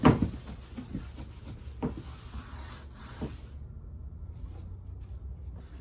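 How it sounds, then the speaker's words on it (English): A clean rag rubbing excess wood filler off woodwork after patching nail holes, with a few quick scuffing wipes up close early on that then fade into a quiet hiss, no talking. "I'm going to use a nice clean rag to kind of wipe off the excess"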